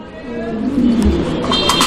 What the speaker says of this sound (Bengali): ডিম বাচ্চা করা রানিং কবুতর। পছন্দ হলে যোগাযোগ করবেন স্ক্রিনে দেওয়া নাম্বারে। দেখেন কবুতর দেখেন।